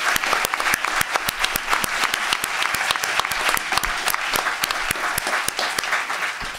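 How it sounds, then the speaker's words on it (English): An audience at a startup pitch night applauds the presenting teams, loud close clapping with sharp individual claps standing out over a steady crowd roar for the whole stretch. "I just want to give these teams a round of applause for the great job they did presenting."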